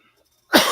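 A single sudden, sharp human cough, close and fairly loud, breaking out of silence near the end.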